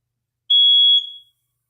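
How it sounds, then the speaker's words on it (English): A single loud electronic smoke alarm beep, sharp and high-pitched, lasting under a second before cutting off into silence. "the fire alarm got confused for a second"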